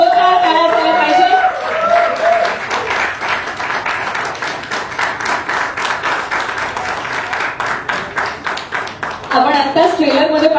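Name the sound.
audience applause for Sayaji Shinde at a trailer launch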